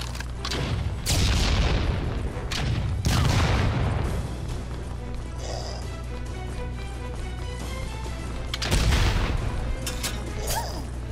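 Heavy booming video game gunshots from a three-shot weapon in Hentai vs. Evil ring out in a few separated bursts, loud and close, with low rumbling tails between them over a steady background hum.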